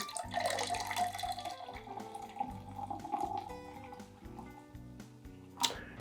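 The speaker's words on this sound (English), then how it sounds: "I'm going to go ahead and add my tonic water in and add it to about halfway up the glass" Tonic water pours into a glass for a gin and tonic, a steady liquid splash that rises in pitch as the glass fills, ending with a short sharp clink.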